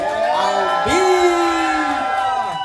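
An audience cheers and whoops for the artist Flippa T at a live show's soundstage, a sustained crowd roar with voices riding over it that stays loud throughout.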